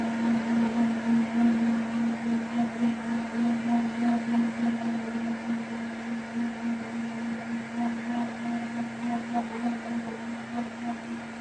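A blender grinds smoothie ingredients in a kitchen, giving a steady, continuous motor whir with a strong hum that holds at a constant level for the whole stretch.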